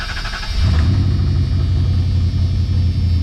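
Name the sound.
Dodge car engine starting and running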